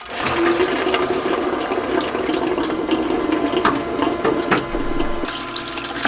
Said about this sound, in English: Now with the pump running, you can see you should have water coming out of the hot supplied line